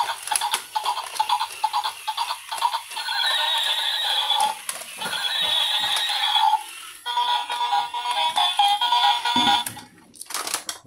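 A toy zebra's electronic sound effect plays a horse neigh, a bright whinnying burst with chirpy, ringtone-like tones and a clip-clop feel, loud and close, ending in a short sharp burst.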